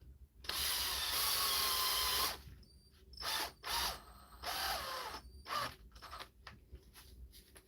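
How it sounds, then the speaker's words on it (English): A ratchet mechanism on a bench grinder repair spins in bursts, first a long loud whirring buzz, then several shorter whirring runs with clicks between them, close and alone. "Ratchet on here."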